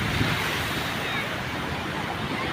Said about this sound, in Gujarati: એના મોજા આવી રહ્યા છે.